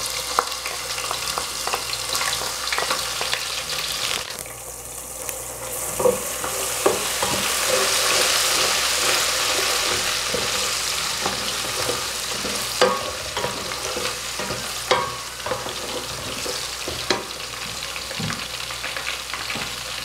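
Onions with crushed ginger and garlic frying in a pan for chickpea pulao, a steady loud sizzle with occasional stirring scrapes and pops running throughout.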